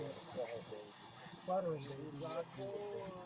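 An airbrush sprays paint onto a T-shirt, giving a short, steady hiss of under a second that rises over ongoing nearby talk.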